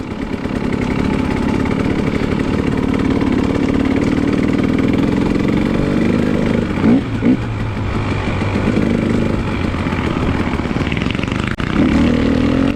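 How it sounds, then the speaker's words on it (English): Dirt bike engines idle and rumble steadily on a snowy trail, a continuous close mechanical drone with slight changes in pitch throughout. "when they hear the bikes coming"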